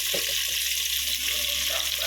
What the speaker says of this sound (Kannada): ಈಗ ಇದನ್ನು ಚೆನ್ನಾಗಿ ಫ್ರೈ ಮಾಡೋಣ.